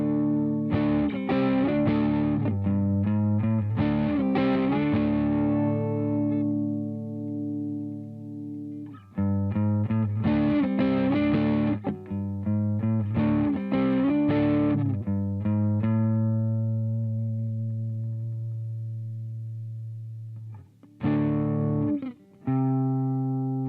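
An electric guitar runs through a low-gain drive pedal, with lightly overdriven chords and riffs played in phrases separated by long ringing sustains and brief pauses, loud and close.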